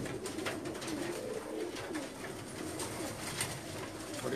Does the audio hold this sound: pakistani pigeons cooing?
yes